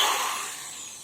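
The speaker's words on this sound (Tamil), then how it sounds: "ட்ரில் யூஸ் பண்ணி" An electric drill boring holes while building a moon lamp stand, a steady high-pitched whir heard close and alone for about a second, gradually fading in loudness.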